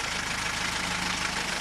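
A tractor engine runs steadily while pipe is being driven, a constant mid-low idling drone with a faint repetitive knock, close and even throughout, no voices.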